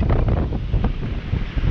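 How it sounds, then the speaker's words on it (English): Strong wind blows outdoors across the microphone in a steady roaring rumble with gusty buffeting, loud and continuous throughout with no other sounds. "That'll give you an idea of the wind."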